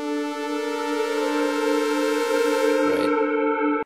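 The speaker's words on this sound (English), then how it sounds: "what I've got here is I've got this pad element, sounds like this" A sustained synthesizer pad sample in Ableton's Factorsynth holds a rich, steady chord of layered tones, with a brief swell of noise near the end before it cuts off abruptly, heard alone.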